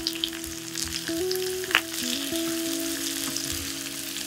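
Chopped onions sizzle and fry in a pan for a Spanish-style omelette, a steady close crackle with faint tonal hums and a small clink partway through.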